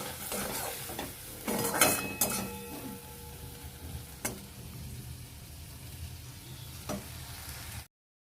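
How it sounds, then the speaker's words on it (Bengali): Vegetables stir-fry in a pan with a bright sizzle, broken by several sharp scrapes and clinks of the spatula against the metal early on, then a softer, steady frying hiss with occasional knocks until it cuts off. "বাকি তরকারিগুলো ভাজাটা করে নেবো।"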